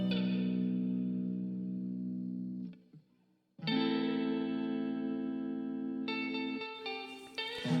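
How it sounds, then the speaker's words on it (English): Guitar sample in FL Studio run through Valhalla Vintage reverb, sustained tonal chords ringing out with a washy tail, a short gap, then more held chords returning, alone and fairly clear. "we'll go ahead and add some Valhalla vintage reverb to that, just to go ahead and wetten it up a little bit"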